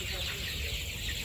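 Thirty-day-old chickens cluck together inside a poultry farm, a dense, continuous murmur of many birds close by, with a person talking over them.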